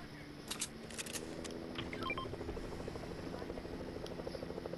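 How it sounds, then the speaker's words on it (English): Helicopter in the video game Fortnite, its rotor chopping in a steady low pulse at middle distance, running throughout beneath scattered game clicks and beeps. "There's a helicopter!"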